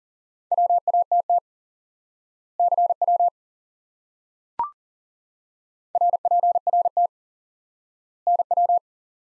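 Morse code CW tone sent as short clean beeps in a lesson, keyed in quick bursts of dots and dashes separated by pauses, with a single brief click midway.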